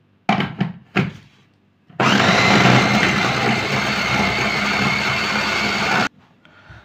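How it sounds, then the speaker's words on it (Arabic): A food processor mincing chicken, onion, garlic and fresh herbs runs as one loud, steady whirring burst for about four seconds, after a couple of short clatters, then cuts off abruptly into quiet. "احنا بنفرم الاول البصل والثوم والخضره"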